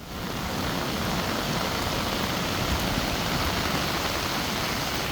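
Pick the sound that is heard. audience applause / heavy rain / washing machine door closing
heavy rain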